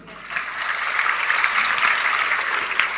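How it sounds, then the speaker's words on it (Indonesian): Church congregation applauding during a sermon, a steady wash of many hands clapping together, fairly loud and sustained throughout with no voices on top. "Tepuk tangan."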